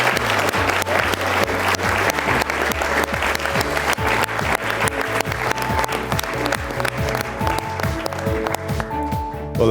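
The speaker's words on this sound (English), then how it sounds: "I think you all deserve a big round of applause." Applause at the close of a Farmers Weekly Question Time event on inheritance tax and family farms rolls on for nearly ten seconds, thick and even, blended with tonal musical sounds and rhythmic hits.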